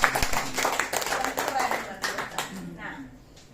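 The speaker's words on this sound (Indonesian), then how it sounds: "Tepuk tangan dong buat Pak CEO." A room of people claps for a company CEO at a member sharing event, brisk applause that starts loud and thins out over a few seconds, with voices mixed in.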